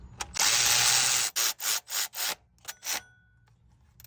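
Ratchet wrench tightening water pump bolts on a 2004 Nissan Titan: a long rasping clicking burst followed by several shorter separate ratcheting strokes, close and alone with no talk.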